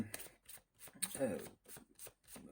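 Tarot cards being shuffled by hand at close range, with repeated riffling bursts in a steady rhythm and a voice speaking over the shuffling.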